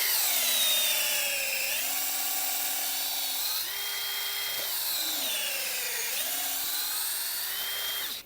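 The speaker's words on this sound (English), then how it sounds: "You need to drill a hole in a downward angle." A power drill whines steadily at high speed, its pitch dipping and rising as it bites into the trunk of a Chinese privet tree, drilling a hole at a downward angle, close and continuous.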